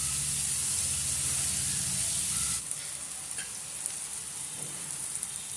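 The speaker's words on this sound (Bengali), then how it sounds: "হালকা ভেজে নেব পেঁয়াজটা। 2 মিনিটের মতো ভাজার পরে" Onion fries in a pan with a loud, bright sizzle that suddenly drops to a quieter crackle partway through, with a few light stirring sounds.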